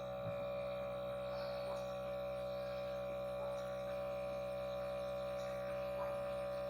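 A milking machine runs steadily on a dairy cow, its vacuum pump giving a constant mechanical hum with faint rhythmic pulsing throughout, with no talking.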